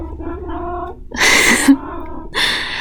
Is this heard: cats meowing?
yes